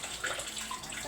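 Running tap water splashes steadily over husked sweet corn being washed, a brief close hiss of flowing water with no voices.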